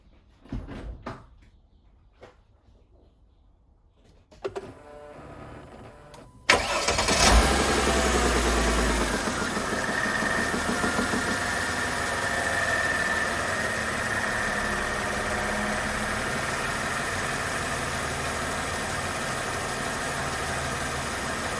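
A 2004 Mercedes W209 CLK with a V6 engine, quiet clicks and a door thump before the starter cranks and the engine fires, then settles into a smooth, steady idle that continues to the end.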